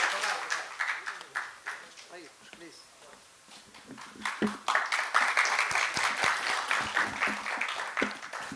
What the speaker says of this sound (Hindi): बहुत बहुत धन्यवाद मित्रों इन तालियों के लिए